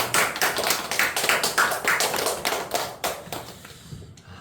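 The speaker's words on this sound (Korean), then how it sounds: "그런 마음 가지고 박수를 드립니다." A church congregation claps in applause after a worship song, a moderate steady patter of many hands that thins out and fades toward the end.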